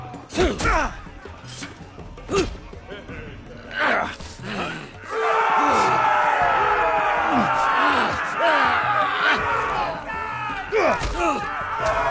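An arena crowd in Game of Thrones: voices speak and shout with thuds and groans, then a loud, sustained crowd roar swells and fills the rest.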